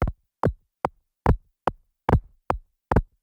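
A synthesized kick drum with its high end cut off by a low filter thumps eight times in a steady, evenly spaced rhythm, each hit dull and muffled with silence between.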